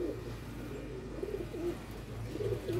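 Red-eyed pigeons, including Kasuri and Teddy breeds, coo softly and repeatedly close by over a steady low background hum.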